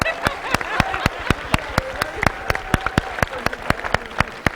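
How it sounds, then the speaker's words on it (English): Lecture hall audience applauding for a group of student singers, sharp individual claps in a steady scattered patter, fairly close and continuous with little talk. "let me have a big round of applause for the biochemical singers"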